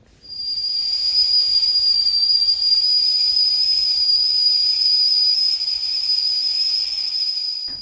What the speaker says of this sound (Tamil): ஸோ பால் வந்து அடுப்பில் வச்சுருந்தேன். அதுவுமே விசில் வந்துடுச்சா